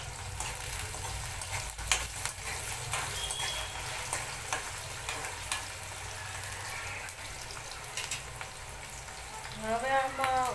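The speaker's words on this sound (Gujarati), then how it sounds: "બટેટા અને લીલા મરચાં જ્યારે આપણે ફ્રાય કરીએ ત્યારે થોડુંક એવું મીઠું પણ નાખશું," Potatoes and green chillies fry in a pan for sabudana khichdi, a steady sizzle with a few stirring scrapes throughout and a brief voice-like sound near the end.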